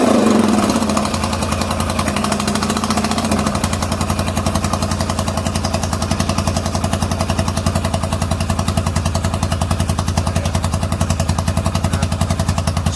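A Yamaha XS650 motorcycle engine, on choke, spins briefly on the electric starter and catches, then settles into a loud, steady, rhythmic idle that thumps close by for the rest of the clip.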